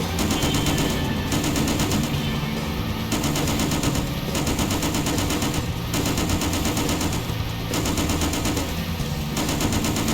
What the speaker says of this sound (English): Lay down some suppressive fire, keep them off our tail.